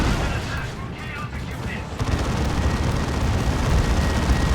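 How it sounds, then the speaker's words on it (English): Tank buster artillery barrages in the real-time strategy game Dawn of War 2, heard as a dense, continuous roar of booming impacts and gunfire that grows heavier midway, loud and unbroken throughout. "Tank buster barrages."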